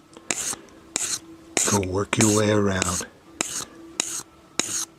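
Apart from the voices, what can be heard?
sharpening a tool blade on a sanding block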